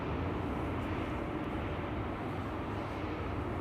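A KLM Embraer 195 jet airliner at Schiphol Airport gives a steady, fairly quiet low roar of engine rumble, continuous and without distinct events, with no talking.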